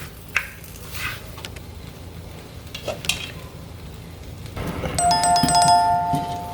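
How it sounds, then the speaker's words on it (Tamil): Wild boar curry, Jaffna style, being stirred in a clay pot: scattered scrapes and soft sizzling up close, then a bright ringing chime-like tone rising near the end, no talk. "அடிக்கடி எடுத்து இப்படி பிரட்டி பிரட்டி வளர்த்து தான் இதை சமைக்க வேணும்"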